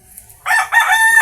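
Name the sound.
gamecock rooster crowing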